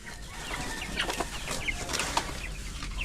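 Dekalb White chickens in a coop give scattered soft clucks and short calls, several birds fairly close over a low background hum.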